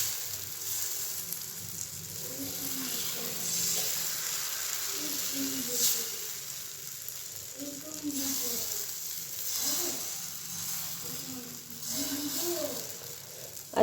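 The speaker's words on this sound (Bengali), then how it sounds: "তো এরকম করে পিঠেটা ভেজে নেব" Pitha batter frying in a pan, a soft continuous sizzle and hiss with faint scraping, fairly quiet and close, running for several seconds without talk.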